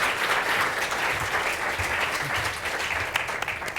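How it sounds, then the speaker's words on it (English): Sustained audience applause for a speaker at a Health Research Board public talk on fertility and childbirth taboos in Ireland, a dense steady clapping that continues loudly throughout with no talk over it. "So please, a round of applause for June Shannon."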